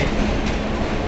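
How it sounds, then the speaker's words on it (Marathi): A passenger train bound for Panvel pulls into a crowded station platform, giving a steady, loud rumble of rolling wheels and rail noise that fills the whole short moment with no voices. "ही बघा ट्रेन आली आहे पनवेल"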